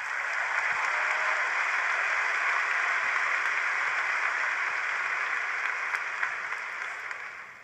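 An audience on stage at a THON event applauds continuously, a dense steady clapping that holds for several seconds and then tapers off at the end.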